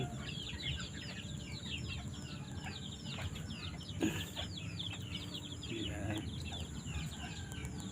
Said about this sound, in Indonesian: memberi ayam makan, karena ayam juga perlu makan ya